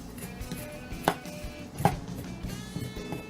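The back of a paring knife scrapes and peels beef on a board, with steady soft scraping and two sharp knocks against the surface, close up and without talk.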